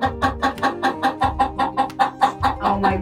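Rhode Island Red chickens cluck in a quick, rhythmic run of close, loud calls, about a dozen short bursts in steady succession with overlapping hen voices.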